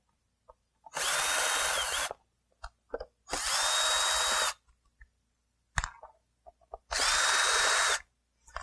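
A power drill backs out Phillips head screws from a plastic seat panel in a 2000–2002 Chevy. Three separate whirring bursts of about a second each come close and loud, with small clicks and handling noises in the pauses.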